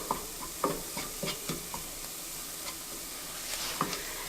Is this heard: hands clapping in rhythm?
no